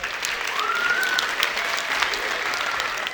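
An audience at a children's song festival applauds in a steady, dense wash of clapping that lasts throughout, with a brief voice heard faintly over it.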